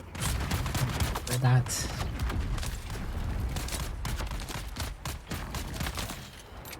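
Rapid gunfire from various guns in a video game, dense bursts and fusillades layered over one another, loud and close, with a voice speaking briefly over the shots.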